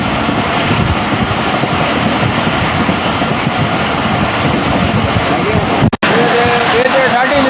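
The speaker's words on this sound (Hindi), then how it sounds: "ट्रेन दौड़ रही है मियां चन्नू चीचावतनी के दरमियान" The Musa Pak Express running on the rails between Mian Channu and Chichawatni, heard as a loud, steady roar with clickety-clack rhythm throughout and a brief sharp clunk near the end.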